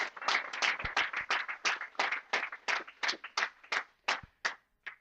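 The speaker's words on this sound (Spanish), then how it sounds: "Dele un aplauso a esta palabra." Sparse clapping from a small church congregation, a handful of distinct, separated claps in a loose rhythm, fairly soft and close, ending in a few isolated strikes.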